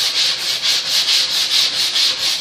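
Permagrip sanding block rubbed up and down a plywood edge, a steady rhythmic scraping with regular strokes about every half second, close and fairly loud, with no talk.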